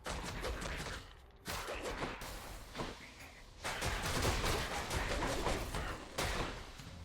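Explosions from the video game Hades crack out as a burst of loud, sharp blasts in quick succession, with short gaps between the booming hits.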